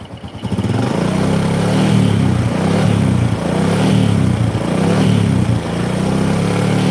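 Toyota Supra engine held at mid throttle, a steady loud revving drone with a light rattling buzz running through it, close by and continuous with no talk.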